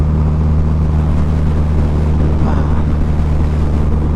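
A 2012 Harley-Davidson V-Rod Muscle cruiser drones steadily at speed, its low engine hum constant and buffeted by heavy wind rush against the rider's microphone.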